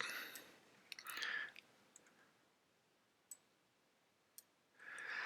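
A computer mouse gives a few sharp, sparse clicks while clicking and dragging, faint and close, with soft rustling bursts between them.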